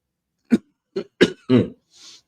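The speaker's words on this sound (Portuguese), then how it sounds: "desculpa, eu vou tossir" Four short coughs in an irregular burst, close and fairly loud, followed by a soft exhale.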